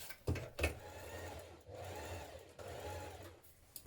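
Sewing machine closing the elastic opening on a trouser waistband, heard as a fairly quiet whirring hum in several uneven stretches. Two soft knocks come near the start.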